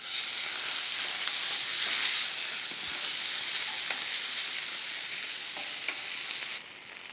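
Cumin, ginger-garlic paste and coriander fry in a pan with a steady, close sizzle and hiss, broken by occasional soft stirring scrapes.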